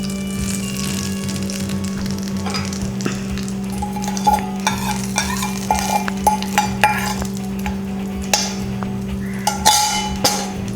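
Mustard seed tempering being stirred into okra dosa batter: soft, uneven wet scraping and light clinks of a spoon against the bowl, steady and close, over a constant low hum with no talking.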